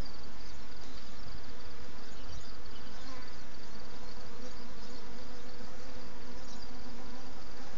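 Honey bees in an open hive being inspected without a veil, a dense, continuous buzzing drone from many insects close up, steady and loud throughout with no talking.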